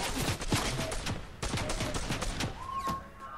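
Rapid volleys of video game gunfire rattle in a busy, loud scene, shots overlapping with crackling effects and a brief tonal cue near the end.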